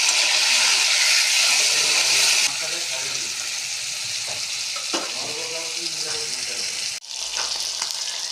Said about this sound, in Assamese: এতিয়া এইখিনি মই অলপ সময় ভাজি লওঁ